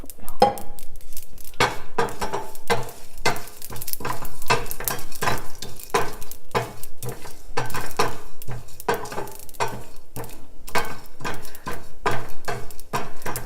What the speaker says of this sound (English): Roast it in very low heat because these are small spices.